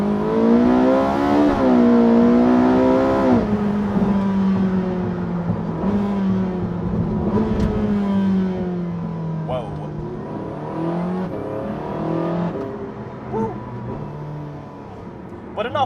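Porsche 918 Spyder engine, driven in manual mode with the paddle shifters, revving up and down close by. The pitch climbs and drops repeatedly as it works through the gears, loud and steady throughout.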